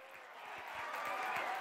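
A crowd applauds at a live performance in the video game Persona 4 Golden, a dense, steady wash of clapping that swells slightly and sounds moderately loud, with no talking over it.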